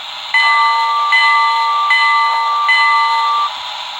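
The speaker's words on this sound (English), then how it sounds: "Here's the bell." The bell of an HO scale Broadway Limited Imports Reading #217 Light Pacific model steam locomotive rings four times at an even, steady pace, loud and close over a soft background hiss.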